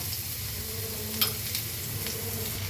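Chopped onion dropped into hot oil in a pan on a gas stove for chole bhature, giving a steady close sizzle throughout with a brief sharper spatter near the middle.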